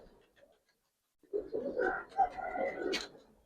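Giribaz pigeons coo nearby in a short burst of low, throaty warbling after a faint, quiet start.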